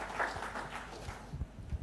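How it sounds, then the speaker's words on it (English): Audience at a tech conference session giving a round of applause, light and fairly sparse clapping from a modest crowd with a few louder claps near the end. "Give the man a round of applause."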